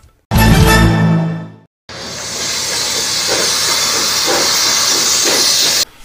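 Steam locomotive releasing steam, a loud, sustained roaring hiss close by, broken by a brief pause and a short tonal, whistle-like blast at the start, with faint rhythmic chuffing pulses under the hiss.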